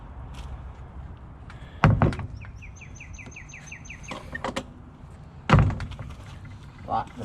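A door thuds shut in a bird-breeding room, two solid knocks a few seconds apart, with birds chirping throughout and faint voices in the background.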